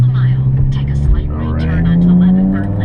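A BMW E60 M5 with a straight-piped exhaust drones with a loud, steady low rumble and harmonic engine tone throughout, close by, with someone talking over it.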